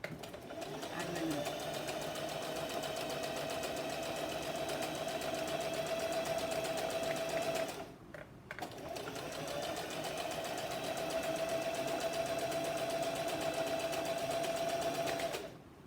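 A Singer Heavy Duty sewing machine runs a steady, fast stitching whir with a constant mechanical hum, pausing briefly midway before resuming at the same pace, close and loud.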